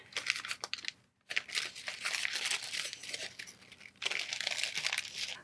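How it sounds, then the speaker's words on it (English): Watercolor paper flower petals are folded down by hand, producing dry crinkling and crumpling bursts with a short silent gap, close and clear with no talk. "Fold the petals down and then attach the rubber band."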